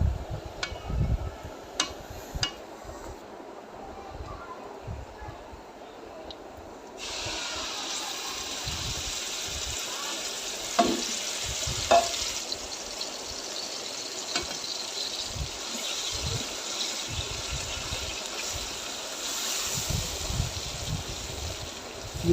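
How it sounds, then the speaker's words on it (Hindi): Spaghetti and macaroni boil in water in a large kadhai, giving a faint, low hiss with irregular soft bubbling bursts that thicken into a steadier simmer partway through. "तो इनको बड़ी कढ़ाई रखी है पानी की, तो इसमें सब डाल के बॉईल कर लेंगे अच्छे से"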